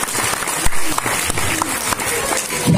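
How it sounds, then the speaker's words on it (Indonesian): Students at a school religious lecture clap together, a dense, moderately loud patter with sharper individual claps poking through and a brief murmur of voices near the end. "Lanjut tepuk tangan dulu semuanya."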